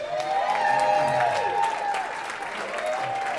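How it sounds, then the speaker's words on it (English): Wedding guests in Sydney applaud the proud father of the bride, a steady round of clapping from a room full of people, with voices and whoops rising over it. "keep that applause going for Mr. Michael Stinson"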